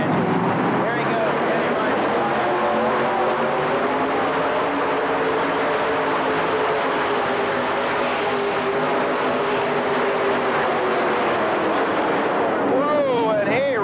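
A two-wheel-drive pulling tractor drags a sled, its supercharged rear engine roaring loud and steady at full throttle before blowing; the sustained engine drone runs throughout with rising whine near the end.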